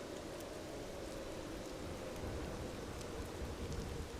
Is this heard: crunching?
no